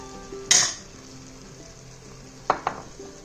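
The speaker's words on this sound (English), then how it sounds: "curry leaves, and give it a good stir" Spices and curry leaves frying in a pan for a chickpea curry, a soft sizzle under a few sharp spoon scrapes and clinks, close and alone.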